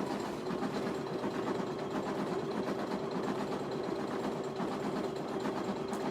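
An embroidery machine stitches an appliqué for a personalized sports ball bag tag, giving a steady, close mechanical hum with a fast, even needle rhythm that runs unbroken throughout, with no voices.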